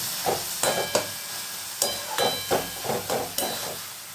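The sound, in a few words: bathua greens (betho shak) frying and being stirred in a pan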